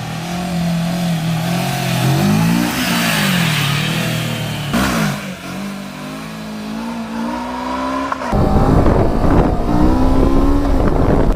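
Motorcycle engine, loud and close, held at high revs with a wavering pitch that rises and dips as the bike balances on its rear wheel, then surges harder near the end, with heavy wind buffeting the microphone throughout.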